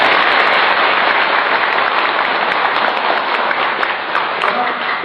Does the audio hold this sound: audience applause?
yes